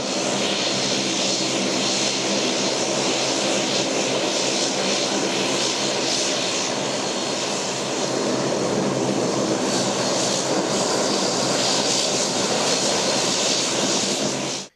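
A SpiceJet passenger airplane arriving at Thoothukudi airport from Chennai makes a loud, continuous engine roar that holds steady throughout and cuts off abruptly at the end.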